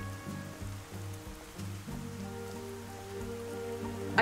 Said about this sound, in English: all these people walking in the rain like it's not raining